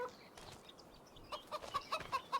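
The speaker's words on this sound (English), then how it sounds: "We're gonna have lots of chickens in the near future." Chickens in Farming Simulator 25 cluck softly at first, then a rapid series of short, sharp clucks grows louder and more frequent toward the end, fairly close and without talk.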